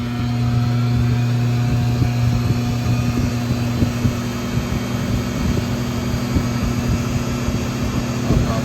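A repaired Toyota two-piece driveshaft with a damaged midship yoke spins on a balancing machine, a loud steady mechanical drone with a constant low hum throughout.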